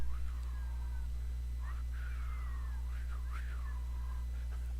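A human voice whistling and warbling in imitation of a Tibetan bird's call, a few rising and falling chirps and glides over a steady low hum.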